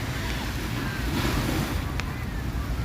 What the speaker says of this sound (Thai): นี่ครับ หาดบางแสนนะครับ